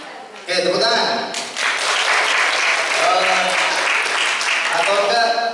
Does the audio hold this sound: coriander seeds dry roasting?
no